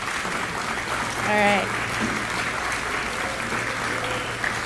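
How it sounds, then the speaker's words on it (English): Audience applause for art students at an arts festival, a steady wash of clapping that swells briefly mid-clip, with a voice speaking over it. "How about a big round of applause?"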